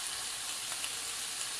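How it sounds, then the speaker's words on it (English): Bacon frying in a pan, an even continuous hiss and crackle, close and fairly quiet, with no voices over it. "is just watching bacon cook"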